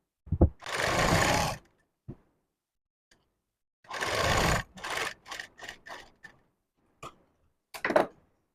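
A sewing machine stitches along a blouse neckline in short separate bursts of rapid needle clatter, close by, with quiet gaps and faint handling clicks between runs.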